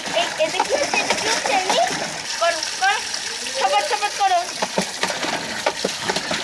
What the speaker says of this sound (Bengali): দেখো জল কিভাবে গায়ে নিচ্ছে